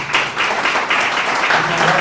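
An audience claps for Juan de Dios in a dense, steady burst of applause from many hands that fills the room evenly.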